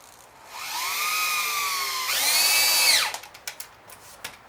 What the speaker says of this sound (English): So if in doubt, drill a pilot hole.